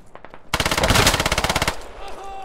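Rapid automatic weapon fire in the tactical shooter Squad, a loud sustained burst of about a dozen evenly spaced shots lasting just over a second, followed by a fading echo tail.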